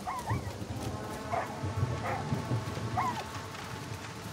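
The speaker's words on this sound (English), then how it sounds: "Where are you going, doggy?" Dog in the video game Far Cry 6 gives a few short barks and yips, spaced out at moderate volume over a steady background of game ambience and footsteps.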